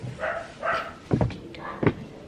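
A dog lets out two short, sharp barks a moment apart outdoors, fairly close, after a stretch of soft voice-like sounds.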